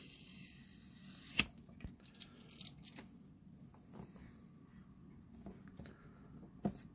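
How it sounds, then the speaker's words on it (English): A security tag being pulled off Razer mouse packaging: faint close tearing and crinkling of packaging with a couple of sharp snaps and small clicks spread over several seconds. "So let's get the security tag off."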